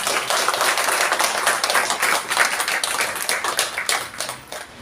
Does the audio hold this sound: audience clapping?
yes